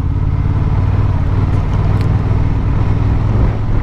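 Honda XL750 Transalp motorcycle engine while riding, a smooth, steady, linear drone with strong low rumble and constant wind, loud and close with no surges.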